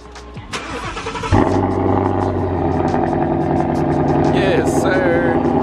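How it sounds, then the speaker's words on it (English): Ford Mustang GT with an X-pipe exhaust cold-starts in an apartment complex lot: a brief crank, then a sudden loud catch into a deep, steady, rumbling idle that holds close and strong, with people talking nearby. "I want y'all to hear this cold start real quick."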